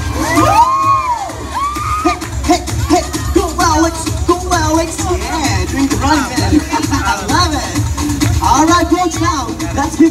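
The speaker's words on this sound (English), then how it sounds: "Now put your hands together and clap, and clap, and clap, clap, clap for Alex." A lively crowd at a live event cheers, whoops and shouts with children's voices mixed in, a loud continuous babble of excited calls rising and falling throughout.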